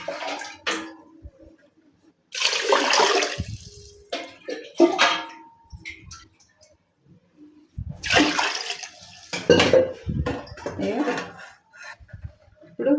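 Water is poured from a vessel into a pot of rice for vegetable biryani in two separate gushing bursts, with clinks of cookware between them and quiet gaps in between.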